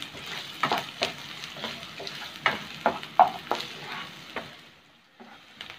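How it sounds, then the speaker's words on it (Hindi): Chopped onions fry in a pan for a dhaba-style chana dal, a steady sizzle broken by sharp scraping knocks of a spatula, close and moderately loud, fading toward the end. "और अब हम इन प्याज को अच्छे से भून लेंगे"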